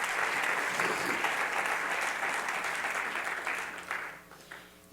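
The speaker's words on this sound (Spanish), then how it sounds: "si quiere aplaudirlo," Church congregation applause fills the room as a dense, sustained clatter of many hands, strong at first and then thinning and fading toward the end.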